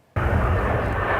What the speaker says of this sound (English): This afternoon, the pilots gave media a sneak peek at what these planes can do.